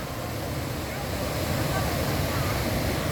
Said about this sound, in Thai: นู่นนะค่ะนู่นน้ำตกหนึ่งแล้วก็ตรงนู้นอีกน้ำตกหนึ่ง